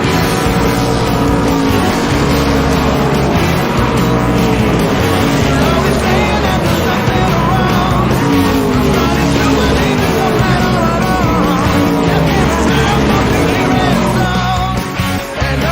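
Pro Stock race cars running at Wiscasset Speedway, a dense, continuous roar of several engines blending together at close to middle distance, loud and sustained without letup and fading slightly at the very end.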